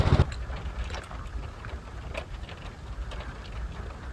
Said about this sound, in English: now it's raining a little barely more, but still raining.